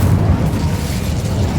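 Incendio fire spell cast in Hogwarts Legacy: a short, loud whooshing burst of flame with a deep rumbling low end, lasting under two seconds with no voice over it.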